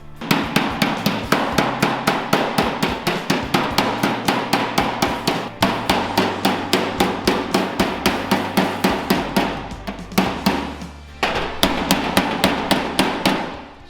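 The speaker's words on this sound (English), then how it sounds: "I thought I'd go to the square faced hammer, give me a bit more room, but it's just bouncing off, it hasn't got enough weight" Square-faced hammer striking while fitting a car door skin, a rapid, loud, evenly paced run of metallic taps with brief pauses, each blow bouncing off the panel.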